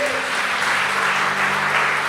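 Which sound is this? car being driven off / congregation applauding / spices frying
congregation applauding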